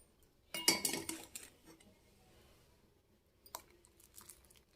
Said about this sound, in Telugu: పాలు పోసుకుందాం.